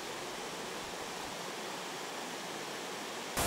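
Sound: rushing stream water

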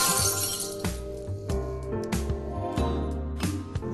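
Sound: glass dropped and shattering

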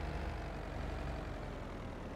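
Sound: small vineyard tractor engine in Farming Simulator 22 video game

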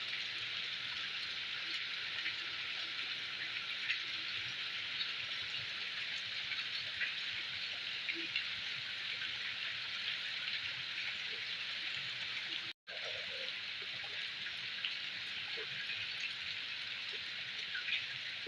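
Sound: rain falling

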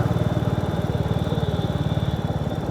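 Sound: motorcycle engine running near Teesta Barrage

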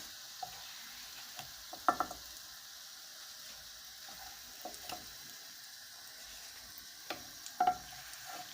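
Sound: syrnyky (cheese pancakes) finishing frying in oil

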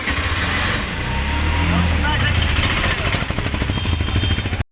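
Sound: auto-rickshaw ride in Haridwar

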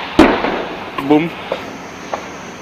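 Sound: anti-tank guided missile in video game

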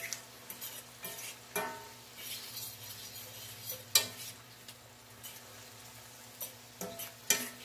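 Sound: stirring mushroom fajita mixture sizzling in pan

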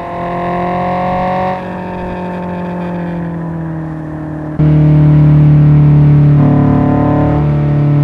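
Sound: Honda S2000 engine driving in video game Assetto Corsa

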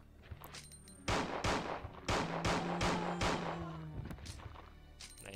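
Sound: revolver shots at zombies in Resident Evil 2 video game

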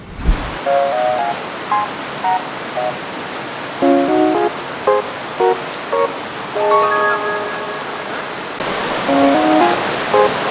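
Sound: loud rushing river

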